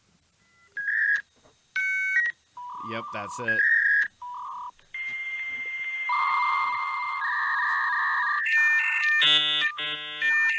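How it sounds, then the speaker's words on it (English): An AOL dial-up internet modem dials a string of touch-tone beeps, then launches into its long, harsh screeching and hissing handshake, loud and close, with a brief spoken remark partway through. "Dial up internet, dial up AOL."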